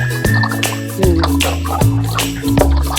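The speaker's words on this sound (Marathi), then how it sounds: "मी कसं हे 2-3 पाण्याने चिकन धुवून घेते चांगलं" Raw chicken rinsed in a bowl of water, with steady close-up dripping, splashing and gurgling of water, joined by a low, steady hum.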